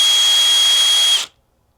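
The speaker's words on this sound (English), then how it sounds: "So to drill the holes," A drill whines loudly at a steady high pitch for about a second while drilling a hole in a 5-gallon plastic bucket, then cuts off abruptly into silence.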